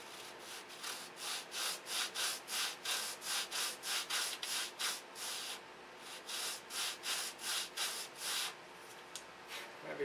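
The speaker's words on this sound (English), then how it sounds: "Sand it as a whole piece too." A wooden piece is sanded by hand in steady back-and-forth strokes, a rhythmic series of close, bright rasping scrapes with brief pauses, and no talking.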